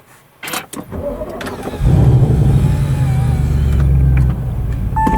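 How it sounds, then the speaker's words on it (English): An Audi RS6 C7 makes a loud cold start: a short starter whir and click, then the engine catches and settles into a steady, high idle roar that drops in level near the end. "when your car first starts up, it is very loud because it's warming up the catalytic converters and the secondary air pump"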